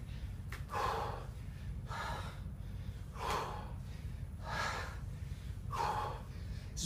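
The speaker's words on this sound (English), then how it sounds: "after I've just gotten my heart rate up and I'm breathing kind of heavy" Heavy breathing follows a bodyweight workout: five slow, audible breaths, each a sharp inhale or huff, evenly spaced over a low steady hum. The breaths are close to the microphone with no talk over them.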